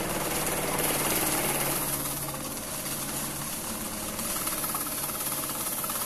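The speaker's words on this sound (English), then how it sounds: "And you can hear the crackling going already." A quadruple Bonetti sector-less Wimshurst electrostatic machine starts up from dead with dense, continuous crackling and hissing discharge, loud and steady throughout.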